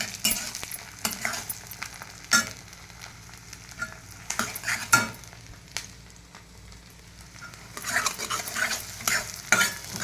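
Garlic and onions frying in a pan for a potato fry, a soft sizzle broken by repeated scraping stirs of a utensil against the pan, irregular and close, with no talking.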